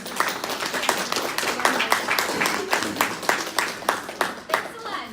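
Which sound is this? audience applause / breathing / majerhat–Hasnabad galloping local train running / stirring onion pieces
audience applause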